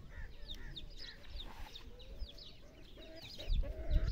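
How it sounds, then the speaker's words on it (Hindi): Chickens clucking close by, a busy chorus of short chirpy clucks and squawks from several hens, with faint rustling and a low thump near the end. "ये है मेरी मुर्गियाँ, इनको अब निकाल देती हूँ।"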